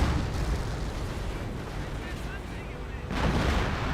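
Artillery fire from a 25-pounder gun in the Company of Heroes video game, with dull booming blasts and rumbling explosions, a heavier burst near the end, under a commentator's voice.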